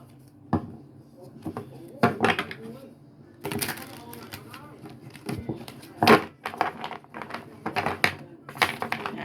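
Tarot cards are shuffled by hand at close range, making repeated crisp, clattering riffles and slaps in irregular bursts, with a voice talking between them.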